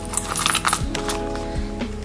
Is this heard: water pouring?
no